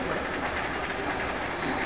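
A metro train running, giving a steady, loud rumble and rattle of wheels and carriages with no pauses and no speech over it.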